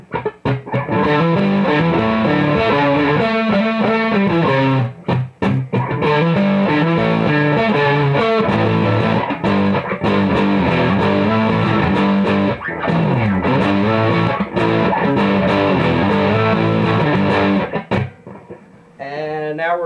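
An electric guitar runs through an OCD version 4 overdrive pedal with the drive turned fully up, playing loud, thick distorted chords and riffs continuously, with a short fade near the end.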